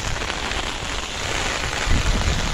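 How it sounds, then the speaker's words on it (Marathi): Heavy rain pours down over village fields in a constant, loud roar, close and unbroken, with a slightly heavier gust of downpour toward the end. "बघा जामच पाऊस आलाय"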